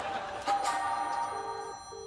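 A telephone rings in short electronic bursts over steady background noise, moderately loud and near, with no talking.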